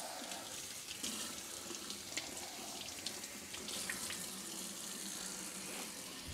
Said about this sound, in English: when you rinse off with the cold water